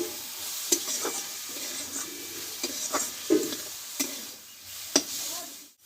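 Softened radish greens stir-fried slowly in a pan, a soft continuous sizzle with several scraping stirs and light taps of a spatula, fairly quiet and close.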